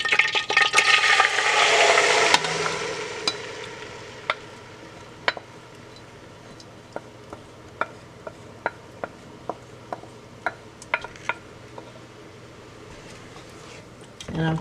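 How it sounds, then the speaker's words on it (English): A loud hiss of egusi seeds hitting hot oil settles into a quieter, steady sizzle, punctuated by sharp clicks and scrapes of a utensil. "And I'm going to start frying it."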